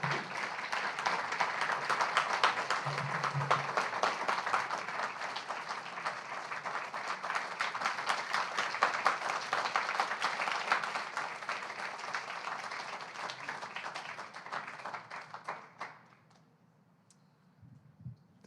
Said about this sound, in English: One more round of applause for our spring poet in residence, John Murillo.